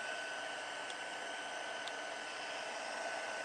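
An embossing heat tool blows steadily as it melts embossing powder on a stamped birthday card, a constant close whooshing hum with no break.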